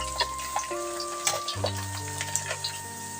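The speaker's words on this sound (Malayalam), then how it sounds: "ഫ്രൈ ചെയ്തെടുത്ത അതേ ഓയിലിൽ തന്നെ ഒരു മൂന്ന് ടേബിൾ സ്പൂൺ വെളുത്തുള്ളി ചെറുതായിട്ടൊന്ന് നീളത്തിലരിഞ്ഞത് ഇട്ട് കൊടുക്കുക" Three tablespoons of lengthwise-sliced garlic fry over a medium flame in oil already used for frying, giving a steady sizzle with light stirring scrapes, partly masked by background music.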